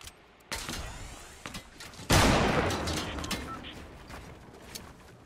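Gunfire in the Fortnite Battle Royale video game, a few sharp shots followed by a loud, close burst of rapid fire that rings out and decays, with quieter shots trailing afterward.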